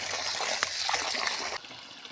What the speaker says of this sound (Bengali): তো এখন জল চলে এসেছে সকালের জলটা সাড়ে সাতটার দিকে আসে আমাদের এখানে